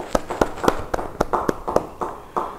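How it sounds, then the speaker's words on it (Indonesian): Members of a church congregation clap their hands at a Bible study, a sparse, uneven run of distinct claps that slowly thins out. "Beri tepuk tangan buat Tuhan."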